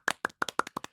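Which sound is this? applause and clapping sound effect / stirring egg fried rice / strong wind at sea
applause and clapping sound effect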